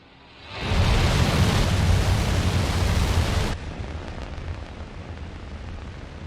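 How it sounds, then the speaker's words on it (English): Rocket liftoff in the space game Mars Horizon, a sudden loud broadband roar that surges in, holds for about three seconds, then drops to a quieter sustained rumble, with no talking. "We have liftoff."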